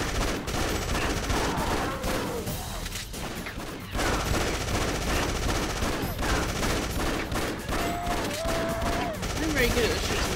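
Gunfire in the video game Afterfall Insanity: steady bursts of shots and battle noise running loud for the whole stretch, with a brief pause near the middle and faint voice-like sounds in places.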